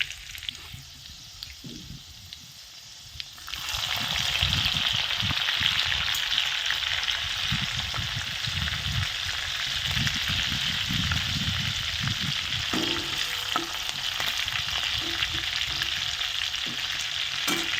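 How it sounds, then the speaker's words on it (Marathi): Garlic and chilli sizzle in hot oil, a quiet start giving way to a loud, steady crackling hiss with occasional stirring, no voices. "छान वास आला लसणाचा मस्त फोडणी घेतली"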